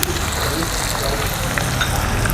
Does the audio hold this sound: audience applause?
no